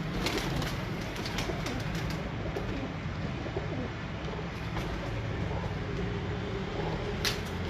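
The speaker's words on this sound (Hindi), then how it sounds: "अब्दुल्ला यार, ये कबूतर का कलर माशाल्लाह बड़ा प्यारा है, एंटीक कलर है, जुगनू।" Pigeons in a breeder loft coo softly in repeated low throaty calls, with a steady background hum and a few faint knocks.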